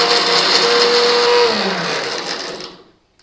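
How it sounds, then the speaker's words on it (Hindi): Mixer grinder blending soya chunks into powder, a loud steady high-pitched whirring that holds for a couple of seconds, then winds down and stops. "ब्लेंड कर रहा हूँ।"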